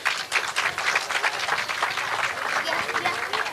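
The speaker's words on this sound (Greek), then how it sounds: "Θα ήθελα να τους δώσετε ένα χειροκρότημα." Crowd applause rises at a crowded nativity-scene reenactment event in Antimacheia, a dense, steady clapping that fills the whole stretch at moderate level without a break.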